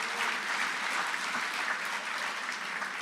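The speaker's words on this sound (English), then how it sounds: "Let's give him a round of applause." Audience applause fills a council assembly hall, a steady, dense wash of clapping that holds at even loudness for about three seconds with no talk over it.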